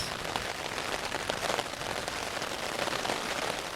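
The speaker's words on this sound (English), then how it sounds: "you're hearing the sound of rain and hail hitting my tent" Steady, dense patter of rain and hail drumming on taut tent fabric during a thunderstorm on Roan Mountain along the Appalachian Trail, loud and close, with no voices.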